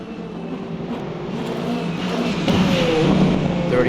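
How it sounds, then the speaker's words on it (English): Number 8 Toyota LMP race car in the Le Mans Ultimate video game at the 24 Hours of Le Mans, running through the Porsche Curves: a continuous engine drone rising in pitch as it accelerates, steady and loud, with no talking. "Riding on board the number 8 Toyota through the Porsche curves"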